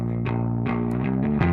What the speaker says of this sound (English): Maybe add some distortion to the sound.